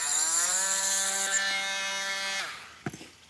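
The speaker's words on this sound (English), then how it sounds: "All we're doing today is we're trimming them off with this trimmer" A power trimmer whines at high speed while cutting back pool light cups potted into pavers, a sustained tonal buzz that cuts off abruptly, followed by a few light clicks.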